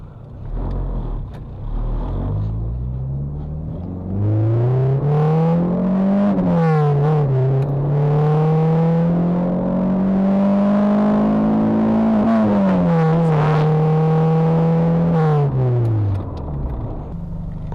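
A turbocharged Toyota Celica engine revs hard under boost on a pull after a fuel-table adjustment, pitch climbing and holding high with a steady loud drone and a brief dip between shifts, with no voices.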